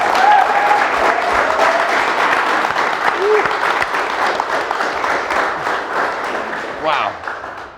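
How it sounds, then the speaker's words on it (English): A live audience breaks into sustained, dense applause that stays full and close throughout, with scattered voices and cheers mixed in. "Can we get some applause right up there?"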